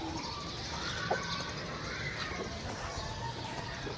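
Soft pigeon cooing in the background amid faint ambient noise, with a few brief calls scattered across the recording.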